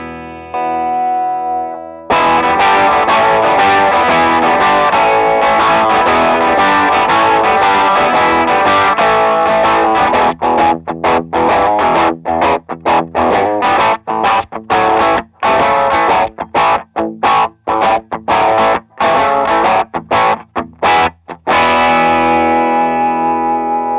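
A bright, cutting electric guitar through a treble booster pedal into a clean amp plays sustained chords and then choppy strummed rhythm, loud and biting with a nasal edge, no voices.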